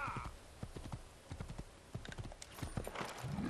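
Steady clip-clopping of horse hooves at a walking pace in Assassin's Creed, in the city of Damascus, with a busy background of game ambience and faint clicks.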